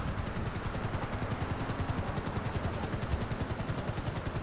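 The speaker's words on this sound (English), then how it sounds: "I can hear the helicopter." A steady, dense rhythmic chopping of helicopter rotors in the video game GTA 5 Online fills the scene, loud and continuous, with rapid pulsing throughout and no voices.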